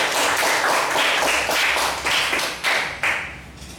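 Students in a classroom give group 3 a round of applause, a burst of hand claps that starts full, thins into a few scattered, sharper claps and ends in a last couple of taps.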